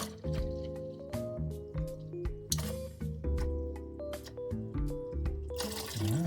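Old transmission fluid drains from the pan of an Acura MDX, a continuous gurgling, burbling pour into a catch container with shifting tones, close and steady throughout.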